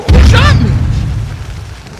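A loud booming gunshot in Call of Duty MW2 hits hard at the start, then rings out as a fading rumble over about two seconds.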